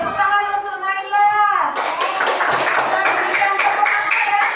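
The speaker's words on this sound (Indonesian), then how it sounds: "Berikan tepuk tangan ya. Tepuk salut." Children in a classroom break into a burst of clapping right after a voice speaks, the rapid applause continuing steadily to the end.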